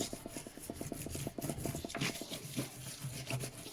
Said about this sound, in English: And I'm just going to burnish.